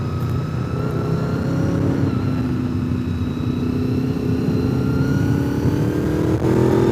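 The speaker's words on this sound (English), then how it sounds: "If you ever get the opportunity to ride an older Honda VFR, do it. The sound of the engine's just amazing." An older Honda VFR motorcycle with gear-driven cams runs steadily close by, its engine note a constant hum with a faint whine sustained over ambient road noise, with no talking.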